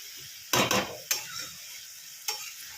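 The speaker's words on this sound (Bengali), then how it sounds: "এরকম গ্যাসটা জোরে দিয়েই এবার কষাতে কষাতেই রান্নাটা করব" Fish head and cabbage stir-fried in a pan over a high gas flame, with a few sharp scraping stirs and bursts of sizzle and quieter hissing between them.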